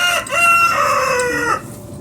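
A rooster gives a single short, clipped crow outdoors in the mountains, loud and close, with a rising then falling call that cuts off early, and no talking over it.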